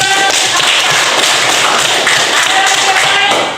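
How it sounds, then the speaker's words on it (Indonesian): Students in a grade 7 classroom at an Islamic junior high school clap their hands, a loud, dense burst of applause that holds steady for several seconds before tapering off. "Ya, bagus, tepuk tangan."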